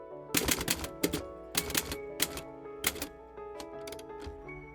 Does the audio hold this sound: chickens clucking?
no